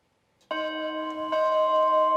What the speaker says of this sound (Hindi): घंटी बज चुकी है।